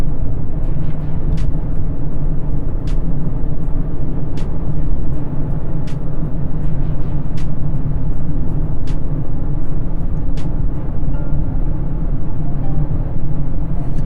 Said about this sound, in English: Right now we're just kind of going on the back roads around the dealership, just so you can see how smooth it is and how comfortable the ride is.